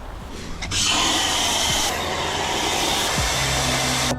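A powerful air blower switches on and roars continuously with a loud, hissing rush of air, close by, its pitch shifting slightly as it moves.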